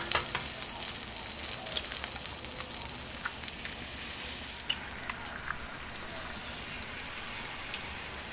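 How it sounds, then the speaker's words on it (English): Eggs fry in oil on a Blackstone griddle set to high heat, a steady, fairly quiet crackling sizzle with scattered sharper pops that runs throughout without a break. "Now let's go ahead and get our eggs on."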